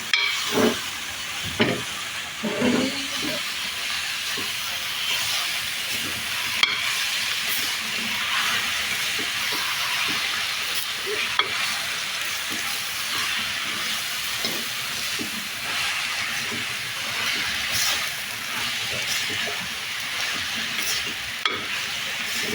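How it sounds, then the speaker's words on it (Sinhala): Tomatoes are stirred into a hot frying pan, a steady close hissing sizzle broken by occasional spoon clinks and scrapes against the pan. "දැන් ඉතින් මේ කලවම් කරන්නයි යන්නේ."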